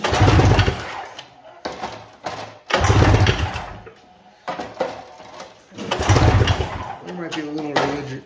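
Ski-Doo Safari 377 snowmobile engine cranking over during a compression test with the spark plugs out and no oil added: three bursts of rapid rhythmic chugging, close and loud, separated by brief pauses with mechanical rattling.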